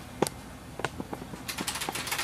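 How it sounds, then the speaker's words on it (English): Typing on an IBM Model M2 keyboard in Notepad, with sparse, separate sharp key clacks at first that settle into a quicker, steady run of clicks, close and fairly loud with no talk. "What better way to test out a keyboard than Notepad?"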